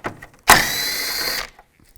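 A power tool spinning a 10mm socket to back out a screw on a Buick Enclave engine, one steady whirring burst of about a second, close and loud after a brief click.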